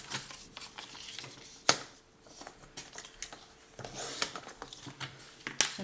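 Paper is cut with scissors or a blade for a scrapbooking album. The soft, close snips and crisp rustles come in an irregular rhythm against a quiet room.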